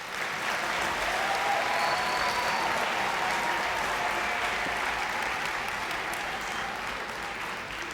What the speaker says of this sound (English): may we please give another round of applause to our graduates